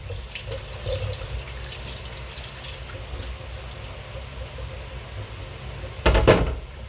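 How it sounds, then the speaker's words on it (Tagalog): Mung beans for a Karay-a monggo dish being rinsed, a steady low wash of running tap water into a sink throughout, ending in a louder, brief splashy burst near the end. "Tapos hugasan natin ulit."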